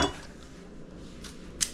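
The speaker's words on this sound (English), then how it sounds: "I'm going to split them lengthwise and then cut them down into dice like this" A knife dices celery on a cutting board: a few faint, sparse taps against the board over a soft, steady background, with no talking.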